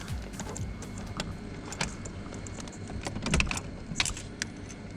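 A set of four keys jangles and clinks in short metallic bursts for several seconds, close by, with a louder flurry toward the end.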